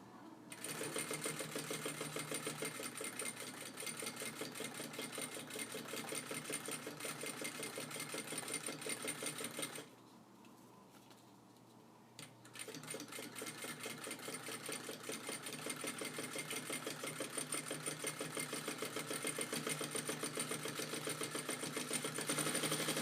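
A sewing machine runs steadily, stitching backpack strap fabric for a prototype. A loud, continuous mechanical whir with a rapid needle rhythm stops briefly near the middle, then resumes and carries on to the end.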